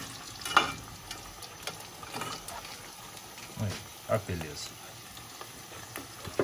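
Traíra fish sizzle and crackle in a pan of hot oil, a steady close frying hiss with scattered pops, while a person talks over it.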